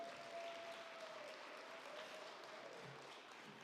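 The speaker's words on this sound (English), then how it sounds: "Let's give a round of applause." Faint, continuous applause from an audience at a book launch inside Park Ave Church, a soft, even patter of clapping heard from a distance without clear individual claps.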